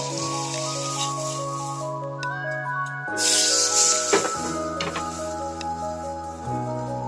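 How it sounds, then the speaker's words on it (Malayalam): Butter melting on a hot pan being readied for dosa gives a brief, soft hiss and sizzle that swells midway and fades, heard under steady background music. "ഇനി നമുക്ക് അതിലേക്ക് കുറച്ച് ബട്ടർ ഒന്ന് തേച്ച് കൊടുക്കാം."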